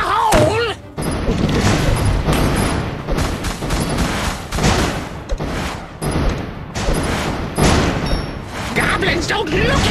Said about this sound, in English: Goblins, don't look at explosions!